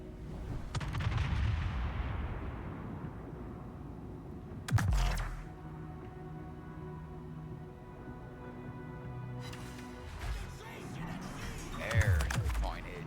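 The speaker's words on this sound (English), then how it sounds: "I can shoot faster than those battleships." Naval ship guns firing in the video game World of Warships, a few heavy booming salvos spread across thirteen seconds over a steady engine and sea drone, with a person talking at points.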